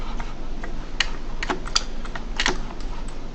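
Close computer keyboard taps and mouse clicks while holding the control key in 3D cloud software: a handful of sharp, irregular clicks over a steady low hum, no voices.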